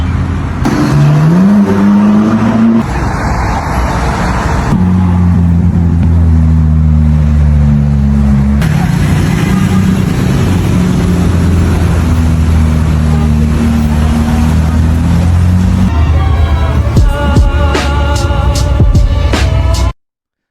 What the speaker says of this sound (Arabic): سيارات الفخمة